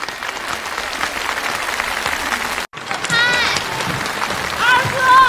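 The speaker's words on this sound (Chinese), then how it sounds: "那让我们掌声有请刘晓婷" Studio audience at a Tianjin TV crosstalk comedy show applauding to welcome two performers onto the stage, steady loud clapping that continues after a brief break, with cheers and a host's voice rising over it.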